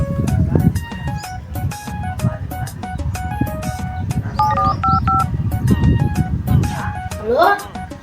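A telephone keypad is dialed: a run of short electronic tone beeps, some quick and some spaced, sounding over a steady background of voices and room noise.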